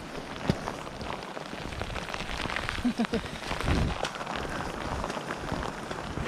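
Steady rain patters down across the whole stretch, with a few louder drips and a brief low rumble partway through.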